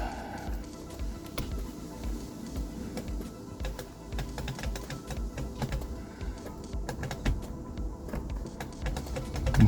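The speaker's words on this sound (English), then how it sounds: "I can hear something clicking" Rapid irregular clicking from a Lotus Excel's electric door mirror motor patters on continuously at a low level, a dense stream of small mechanical ticks over faint background hum.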